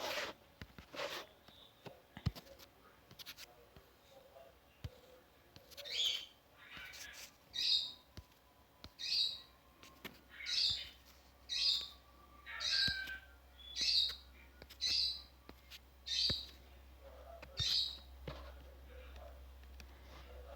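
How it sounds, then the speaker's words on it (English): A bird squawks in a steady series of about a dozen short, evenly spaced calls, fairly faint against a quiet background. "You might hear a couple of tweets in the background from certain birds."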